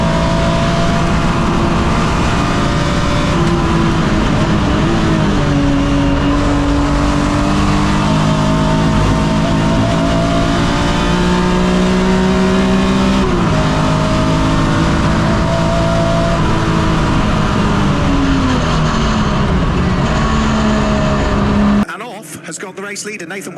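BMW E36 race cars at Donington Park during a club race day, engines roaring and shifting pitch as they accelerate and change gear, loud and close, with commentators talking throughout before an abrupt cut near the end.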